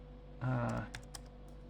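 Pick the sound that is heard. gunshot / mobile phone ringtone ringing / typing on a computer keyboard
typing on a computer keyboard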